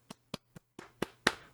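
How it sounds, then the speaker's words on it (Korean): Six sharp hand claps, spaced and steady, then slightly louder and brighter toward the end, close and alone with no talking. "여러분 박수 한번 치고 한번 시작을 해볼까요?"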